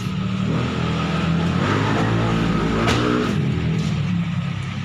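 Big-body Toyota Corolla XE engine idling with the hood open in a subdivision, a steady, loud, close mechanical hum with a constant low drone and no talk over it.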